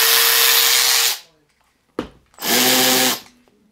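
A Milwaukee high-speed electric ratchet whirs in two loud bursts of about a second each, separated by a brief pause, with a steady motor tone and a short click between runs.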